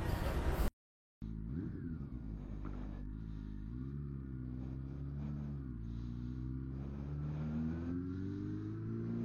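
A Honda CB400 Super Four Revo motorcycle engine runs steadily on a test ride around a housing complex, a low throbbing rumble with gentle rises in revs, heard close and continuous after a brief cut near the start.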